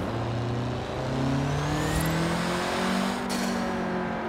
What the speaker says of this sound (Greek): Το τουρμπο άκου.